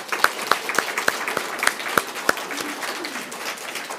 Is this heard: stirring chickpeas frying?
no